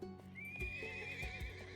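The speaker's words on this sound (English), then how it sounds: "We got a goddamn horse?" A horse in the survival game SCUM gives a clear, drawn-out whinny with rising and falling pitch, over soft hoof clops and low game background noise.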